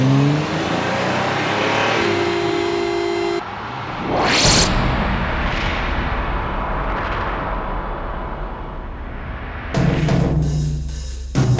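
A Ferrari's engine roars steadily on an open road, loud and close, with a brief rising rev in the middle and a harsher burst near the end.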